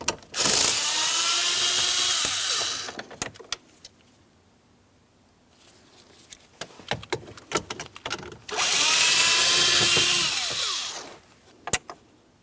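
A power driver whirs in two loud sustained bursts while removing 7mm mounting bolts from a plastic panel on a Ford Transit 250, with metallic clicks and tool handling in the quieter gap between.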